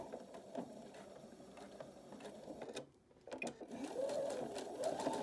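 Sewing machine stitching fabric for a scrub or biker cap, a close steady mechanical whirr with rapid needle ticks, a short pause partway, then resuming a little louder.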